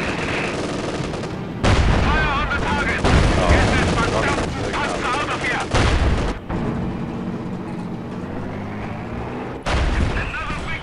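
Gunfire fills a Company of Heroes 2 battle: loud, overlapping bursts of rifle and machine-gun fire come in repeated waves, with explosions and combat noise, while a voice shouts orders over the din.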